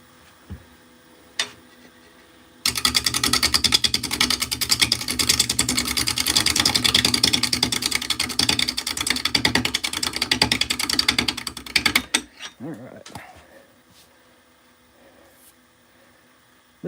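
Wood lathe spinning an unbalanced workpiece at about 700 RPM, a loud steady mechanical rattle and rumble with rapid rhythmic knocking that runs for about ten seconds, then stops abruptly and leaves quieter shop noise.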